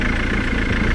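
A Ford Mondeo engine idles during brake caliper rebuild testing, a steady, loud low rumble with constant vibration and no talk.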